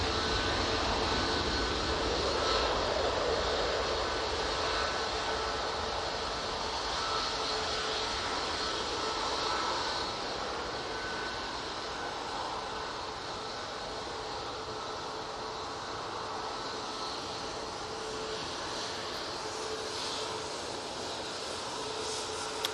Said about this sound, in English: And that aircraft's off to Gothenburg.